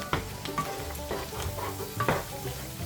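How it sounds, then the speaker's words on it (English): Minced onion sizzles in a hot pan for Steak Diane while a utensil stirs it through, a steady close frying hiss broken by irregular scrapes and taps, with no voices. "Minced onion. We're going to stir that in."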